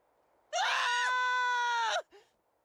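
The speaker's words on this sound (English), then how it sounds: "Screams from the direction of the Hypnos house." A single shrill scream carries from a house in the Duet Night Abyss video game, loud and sustained for about a second and a half before cutting off, followed by a faint short cry.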